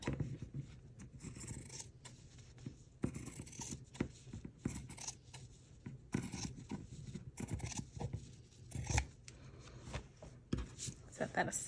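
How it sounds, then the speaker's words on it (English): Scissors snip through fabric to trim off a branding strip in a quiet crafting setting, with a series of short, close cuts and some faint rustling between them. "I'm gonna trim off the branding strip."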